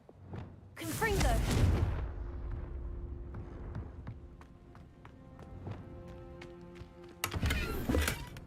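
The Confringo fire spell in Hogwarts Legacy bursts with a loud whooshing blast after a short spoken incantation, followed by quieter game ambience with scattered clicks, then another loud burst near the end.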